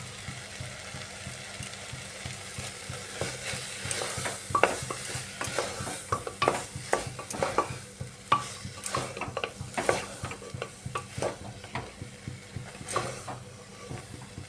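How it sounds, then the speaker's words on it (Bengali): Soybean and rajma ghugni with coriander leaves being sautéed and stirred in a pan gives a hissing sizzle under busy, irregular spatula scrapes and knocks. The scraping grows louder and denser midway, close up, with no voices. "এই যে খুব সুন্দর করে কষানো হয়ে গেছে"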